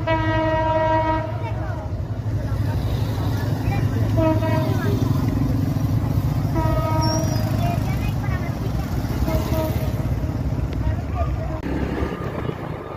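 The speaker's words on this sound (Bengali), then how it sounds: "ও ট্রেন আসতেছে মনে হয়," A train crosses a bridge over the Gumti River in Cumilla, Bangladesh, sounding repeated loud horn blasts over a steady rolling rumble and clatter of wagons, with voices faintly underneath.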